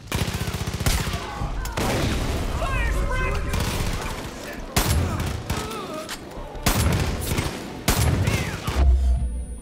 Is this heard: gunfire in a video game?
yes